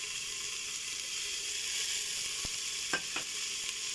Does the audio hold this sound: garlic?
yes